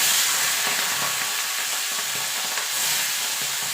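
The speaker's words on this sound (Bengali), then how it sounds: "এবার চিংড়ি মাছটা ভেজে তুলে নেব।" Prawns frying in hot oil in a pan, a steady broadband sizzle and hiss running throughout at moderate level, with faint scraping from stirring underneath.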